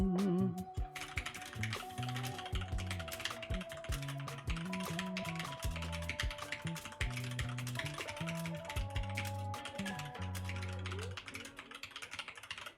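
Rapid, continuous typing on a computer keyboard during a Unity C# coding stream, with dense clicking keystrokes up close, layered over background music throughout.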